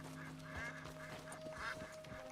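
Ducks quack in the open world of Red Dead Redemption 2, several faint honking calls scattered over a steady low hum, distant and quiet with no talking.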